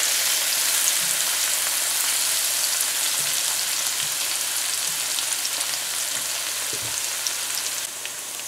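Garlic and pepper, pounded in a mortar, frying in a pan for pumpkin with saltfish, giving a loud, steady, close sizzle throughout with a few faint knocks.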